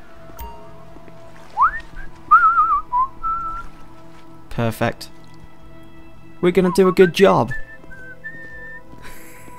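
A bright melodic whistled tune in short phrases from Grand Theft Auto V, mixed with someone talking over it and brief splashy bursts.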